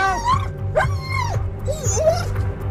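A police dog searching a house with armed officers whimpers and lets out high, bending yips in quick bursts close by, over a low background rumble.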